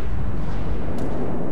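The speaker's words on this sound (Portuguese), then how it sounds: "Duas torres disparadas." Two main gun turrets on HMS Nelson fire in World of Warships, a loud, deep booming roar that fills the short moment up close with no voices.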